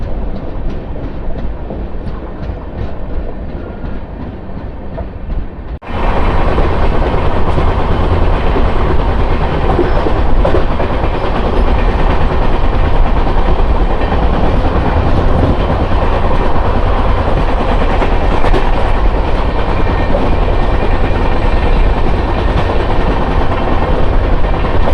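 Janmabhoomi Superfast Express running from Lingampalli to Visakhapatnam, a loud continuous rumble and rattle of wheels on rails heard from on board, jumping louder after a few seconds and staying steady, with no talking.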